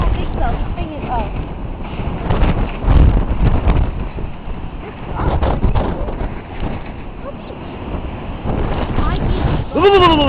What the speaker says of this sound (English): You hear the wind? You hear the wind?